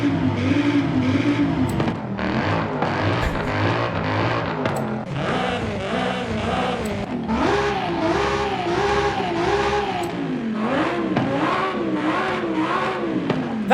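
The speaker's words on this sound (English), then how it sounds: "That's an Audi R8 engine in an Audi RS3." An Audi R8 V10 engine swapped into an Audi RS3 in the racing game Forza Horizon 5 revs hard and continuously, its loud rising and falling engine tone shifting pitch through repeated throttle blips with no talk over it.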